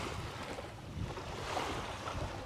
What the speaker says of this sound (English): this is a beautiful little inlet beach here on the, you know, what we like to call the sound side.